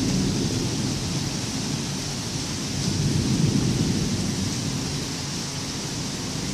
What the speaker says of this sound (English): Off our balcony, hear the thunder.